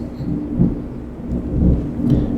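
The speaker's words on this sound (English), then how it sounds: "oh well, here we go, thunderstorms." A thunderstorm in Farming Simulator 22 rumbles with low rolling thunder over a steady hiss of rain, continuous and fairly loud, with no talk over it.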